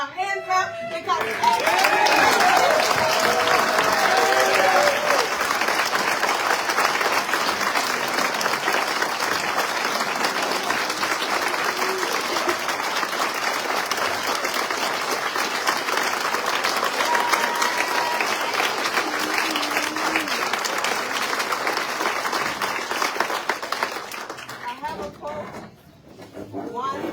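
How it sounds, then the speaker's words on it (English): A rally crowd of union workers claps and cheers in a long, loud, sustained ovation, voices and scattered shouts mixed into the steady hand clapping before it fades near the end. "stand on your feet and give hope a hand clap"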